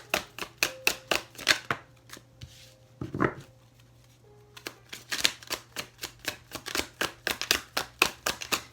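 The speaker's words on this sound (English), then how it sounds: "It's going to take me a minute just to shuffle." A tarot card deck being shuffled by hand: rapid bursts of crisp riffling flicks in rhythmic runs, with a brief pause mid-way, fairly quiet and close, with no talk over it.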